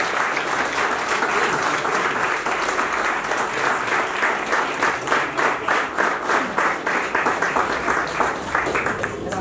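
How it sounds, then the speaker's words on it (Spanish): Loud, sustained audience applause fills the hall at an International Friendship Day celebration, dense clapping holding steady for several seconds without letting up. "Vamos a darle nuevamente un fuerte, fuerte aplauso a Gabriela Silvia Gabriela Vázquez."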